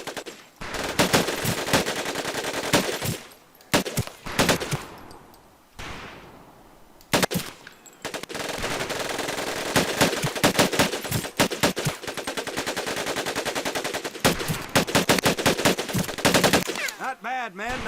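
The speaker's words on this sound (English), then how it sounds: "Take your time to aim and fire the weapon in short bursts only." Training-range weapons fire in Medal of Honor: Pacific Assault comes as a string of loud, close short bursts of rapid gunshots separated by brief pauses, with an occasional voice faintly under the shooting.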